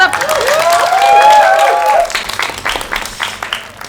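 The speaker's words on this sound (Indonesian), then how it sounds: "Boleh minta tepuk tangannya dong hari ini yuk." A live audience bursts into steady applause and cheering at a comedy show, loud and close at first, then thinning into scattered claps toward the end.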